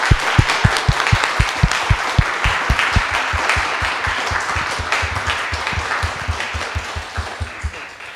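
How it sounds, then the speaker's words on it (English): A congregation applauds a group during a Sunday service at All Saints Church in Pasadena, sustained hand clapping with distinct near claps standing out over the dense room-filling applause for about eight seconds. "Please give this group a round of applause."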